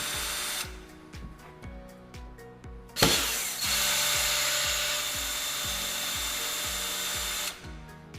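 A power drill backs long screws out of a door lock mechanism, whirring in short repeated bursts at first, then running in a longer continuous spin, close and moderately loud.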